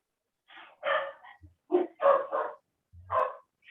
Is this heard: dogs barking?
yes